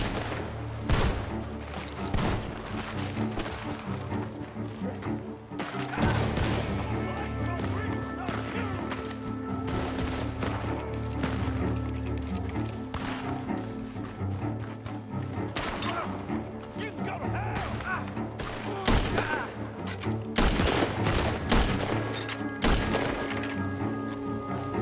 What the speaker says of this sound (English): Gunshots are coming from the...